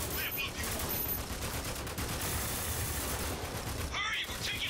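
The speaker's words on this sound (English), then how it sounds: "we're taking heavy fire" Heavy gunfire in the video game Spec Ops: The Line, rapid overlapping automatic bursts and loud reports filling the whole stretch continuously, with soldiers' voices shouting beneath.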